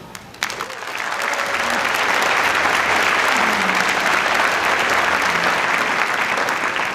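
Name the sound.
audience applause at a commencement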